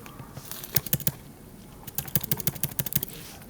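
Typing on a computer keyboard: quick bursts of close keystroke clicks come in two clusters separated by a short pause.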